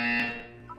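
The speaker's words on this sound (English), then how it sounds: "You will hear a buzzer." A loud, harsh electronic buzzer in the Portal video game wellness exercise sounds briefly and fades out.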